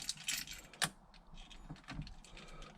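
Keys jangle and click as they are put into the ignition of a Triumph TR7, with several sharp metallic clinks and a rattle close by in a quiet interior.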